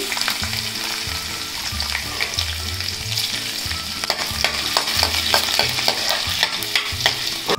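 Garlic frying in hot oil in a wok for corn bhaji, a continuous close sizzle broken by repeated stirring scrapes; a low background hum runs underneath and no one speaks.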